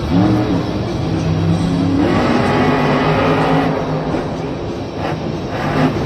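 Monster truck engine roaring and revving continuously through a freestyle run at a Monster Jam stadium show in Minneapolis, loud and close with a steady broadband drone and shifting pitch, no talk.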